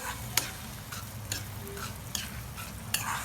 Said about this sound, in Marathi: त्याला मस्तपैकी असं मिक्स करून घ्यायचं सगळं